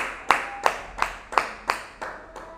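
Congregation clapping in unison at a church service, six sharp, evenly spaced claps about a third of a second apart, with no voices.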